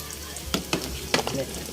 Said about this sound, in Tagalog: Piniprito ko muna sila.